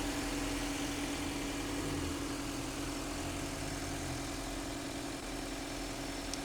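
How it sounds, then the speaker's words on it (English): A 2018 Subaru Crosstrek Limited sitting at idle, giving a steady, even engine hum with a low rumble and no change in pitch, fairly quiet and with no voices over it. "engine runs beautiful."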